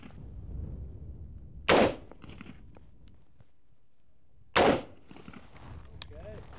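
Two sharp, loud gunshots about three seconds apart ring out at a tactical shooting competition, each with a brief echoing tail. Quiet background noise and faint voices fill the gaps.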